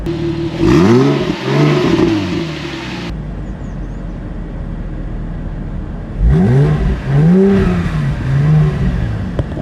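A Porsche Boxster engine revs hard in two deep, grumbling bursts with rising and falling pitch, separated by a few seconds of steady lower rumble; loud and close.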